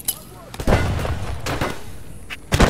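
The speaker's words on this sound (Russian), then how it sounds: "Я туда гранату кину." A grenade explodes in Escape from Tarkov amid several sharp booming bursts, loud and close, with thudding impacts spaced across the moment and another blast near the end.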